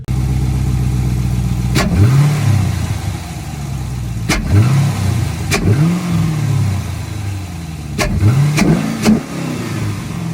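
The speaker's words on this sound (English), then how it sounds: "It makes a cool little inhale sound, sucking sound once I put my feet on the gas." A 5th-gen Camaro SS fitted with a Roto Fab cold air intake takes several short throttle blips, each a rising engine surge with an intake rush over a steady idling rumble, with no talking.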